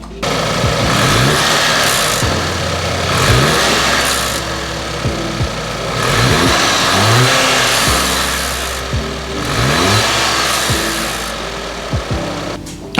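Audi B8 A4 engine revving with its stock intake in place, heard up close: several loud rev blips rise and fall over a steady idle, each climbing in pitch before dropping back, with no voices.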